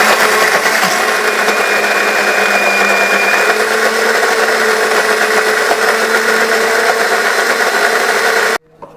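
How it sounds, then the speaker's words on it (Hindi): A blender whirs loudly and steadily as it purees almonds and dates in milk, a continuous high motor whine that runs nearly unbroken, then cuts off abruptly near the end. "ये देखिए इस तरह स्मूथ इसको ब्लेंड कर लिया मैंने, बादाम और खजूरों को।"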